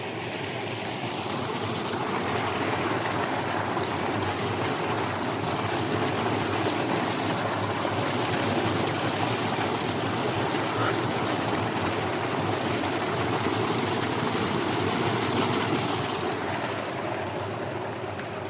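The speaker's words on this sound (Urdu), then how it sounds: "جہاں بھی جاؤ تو ٹیوب ویل چل رہا ہوتا ہے" A tube well pump engine runs steadily in a Punjab village, pumping water for crops, a constant loud drone with rushing water, unbroken for the whole stretch and heard alone.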